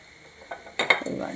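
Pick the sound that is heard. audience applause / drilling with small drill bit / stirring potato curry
stirring potato curry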